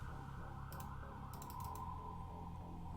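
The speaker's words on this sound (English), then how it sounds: "As you were typing that" Quiet keystrokes on a computer keyboard, a short cluster of light clicks in two brief bursts over a steady low hum.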